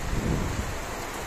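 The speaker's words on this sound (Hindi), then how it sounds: "और भाई बारिश आ गई।" Steady rain pours down with a low, rumbling wash underneath, constant and enveloping with no voices.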